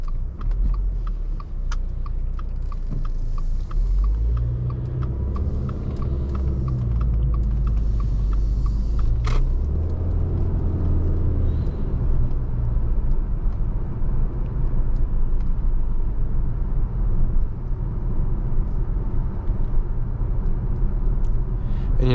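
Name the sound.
2022 Subaru Ascent Touring cabin road noise while driving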